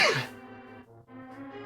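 A single loud, close sneeze bursts out at the start, followed by a quiet sustained tone.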